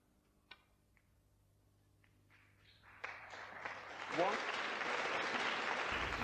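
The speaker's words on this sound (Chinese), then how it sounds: "打进这样一颗简单红球，都能引得现场观众如潮般的掌声" A snooker audience breaks into applause after a simple red is potted at the German Masters, starting from a few scattered claps and swelling into steady, dense clapping that continues to the end.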